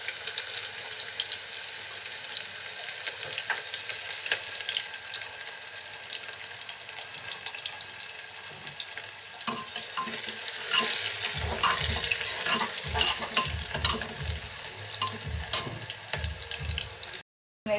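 Chopped onion and whole garam masala fry in oil in a pressure cooker for a duck curry, giving a steady soft sizzle that grows louder and busier partway through as stirring adds scraping clatter.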